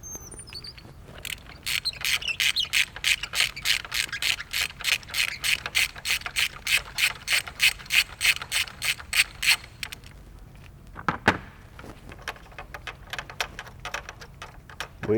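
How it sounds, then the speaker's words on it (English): A ratchet with a small extension turns a magnetic 5/8 Schwab spark plug socket on a VW/Audi 2.0T Gen 3 engine, producing a rapid, even run of close clicking that stops, followed by a single sharper knock. "And a ratchet, of course, with a small extension."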